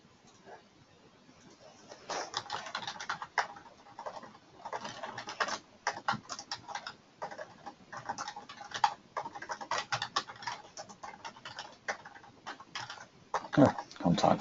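Typing on a computer keyboard, irregular bursts of quick clicking keystrokes with brief pauses between runs, close and fairly quiet, with faint background noise.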